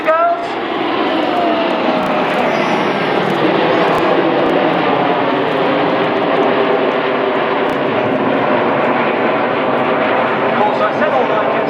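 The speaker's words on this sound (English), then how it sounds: "all 9 jets are going to smoke the Diamond Roll" The nine Red Arrows display jets trailing smoke through a Diamond Roll at the 2014 Sunderland Airshow give a steady, loud, unbroken jet roar, with a commentator's voice running beneath it.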